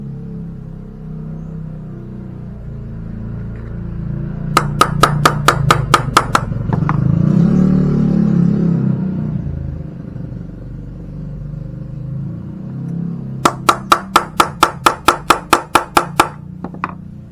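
Bolt and screw holes are punched in a part while a Honda Vario 110 scooter is worked on. Two quick bursts of about eight sharp rhythmic taps come several seconds apart over a steady low engine-like rumble.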